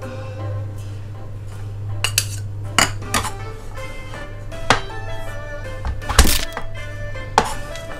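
A knife minces garlic on a cutting board for Chinese-style garlic green beans, making irregular close knocks and chops with a few clinks from the blade, one louder whack near the end, and a low steady hum underneath.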